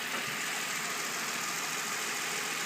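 The stock 3.5-liter V6 of a 2005 Nissan Altima SE-R, heard with the hood open, idles as a steady, faint hum with no voices.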